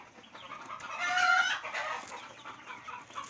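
Chickens on a small poultry farm cluck softly and steadily in the background. One higher, squawking call rises briefly over the low flock murmur.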